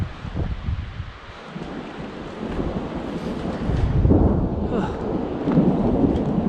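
A storm on a forest hike: deep, rolling thunder rumbles fill the air together with wind and rain, swelling louder partway through amid scattered rustling as branches break nearby.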